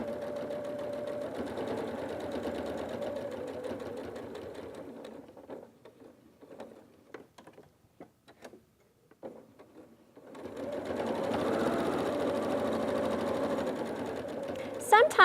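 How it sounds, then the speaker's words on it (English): A sewing machine stitches fabric in a steady run, stops while the needle stays down and the foot is lifted to turn the fabric at a corner, then starts stitching again at close range. "Stop with the needle down at each corner, and then lift the foot to turn your fabric to continue stitching."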